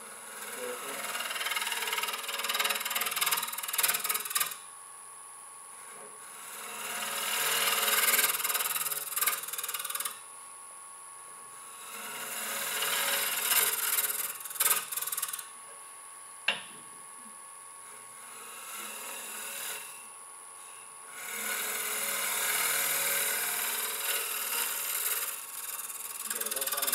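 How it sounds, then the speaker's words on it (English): A round nose scraper works wood on a lathe in long rough scraping passes of several seconds each, with short quiet breaks between them and a sharp knock partway through. "And then I use the round nose scraper."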